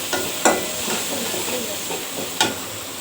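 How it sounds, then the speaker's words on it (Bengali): Chopped tomatoes fry in a pan with turmeric, chili, cumin and coriander powder, giving a steady close sizzle and hiss. Sharp scraping stir strokes land near the start and again near the end. "এই যে দেখেন আমি টমেটো সব মশলার সাথে টমেটো আমি কষাই নিতেছি"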